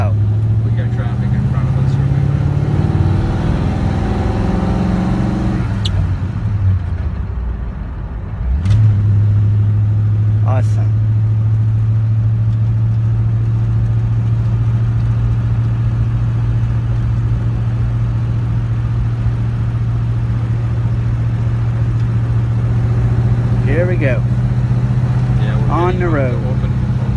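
An old car's engine idles and then pulls away in traffic at a changing light, a steady low drone that dips briefly and resumes. People talk over it and a voice imitates the engine.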